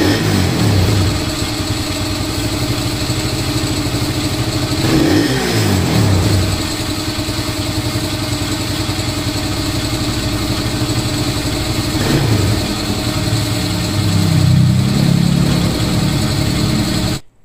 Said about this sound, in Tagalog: So ni-rev din ni Boss Ryan yung motor, no.